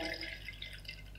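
Water is poured into a larger glass in a short, faint trickle with a light, drippy splash.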